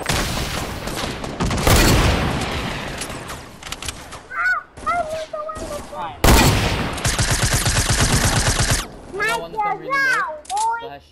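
Loud bursts of rapid automatic gunfire in a Fortnite match, two long sustained volleys separated by gaps, while excited players shout over the shooting.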